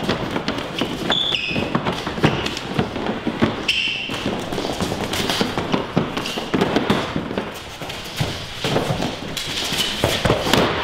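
Repeated blows landing in a two-attacker self-defense drill, a dense, irregular run of sharp thumps and slaps lasting throughout, close and loud, with scuffling movement between hits and no clear talk.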